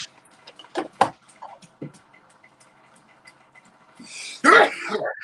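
A sudden, loud sneeze bursts out near the end after a few sharp clicks and quiet movements in a still room.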